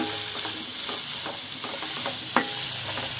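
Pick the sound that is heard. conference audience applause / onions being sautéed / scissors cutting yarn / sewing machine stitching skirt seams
onions being sautéed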